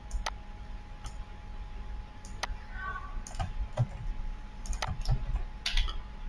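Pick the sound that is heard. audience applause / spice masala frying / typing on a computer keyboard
typing on a computer keyboard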